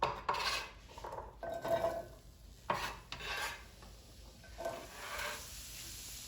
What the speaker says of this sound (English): Next, we're going to saute our veggies.